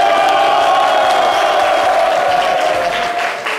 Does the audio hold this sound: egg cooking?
no